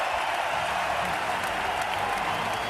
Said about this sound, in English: Now the crowd acknowledging this team